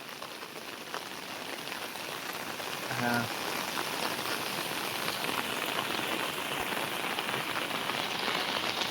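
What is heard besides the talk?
heavy monsoon rain in Konkan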